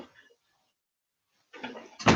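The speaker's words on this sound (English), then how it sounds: "freaking slam the door" A door slams shut with a short, loud thud right at the end, after a brief rustle and near silence.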